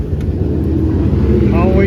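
Street stock, mini stock and 602 race cars run at a dirt track, a steady engine drone carrying throughout with voices talking over it.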